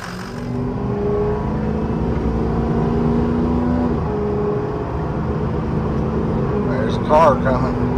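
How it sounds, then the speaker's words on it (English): A car passes by on a road, its engine hum rising and holding steadily at moderate distance beside a vehicle being air tested, with a brief clatter near the end and no clear talk. "car coming."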